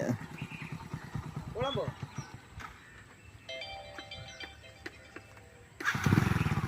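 A motorcycle starts and idles at an RTO office driving licence test. Its puttering engine pulses come and go while people talk over it, with a louder burst of engine noise at the end.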